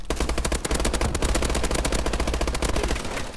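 Rapid automatic gunfire from Call of Duty: Advanced Warfare, a dense, loud, continuous burst of machine-gun shots with a steady rhythm that runs the full length and eases slightly near the end.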